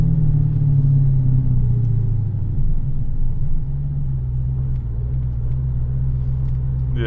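A supercharged 426 Hemi with a Whipple blower idles in first gear, a loud, deep, steady rumble that settles and holds an even lope near the end.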